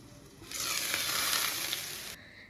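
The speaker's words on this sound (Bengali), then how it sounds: "আর কি সবজিটা ভাজছি" Vegetables frying in a hot pan in a home kitchen, a steady loud sizzle that starts abruptly, holds for under two seconds, then cuts off, with no talk.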